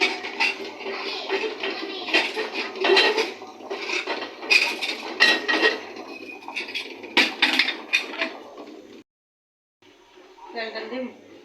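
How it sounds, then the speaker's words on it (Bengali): Pressure cooker and pots being handled on a home kitchen stove, with repeated close metallic clanks, knocks and scrapes of cookware, ending in a short pause and a few softer clatters. "প্রেশার কুকার তো চুলায় দিছি"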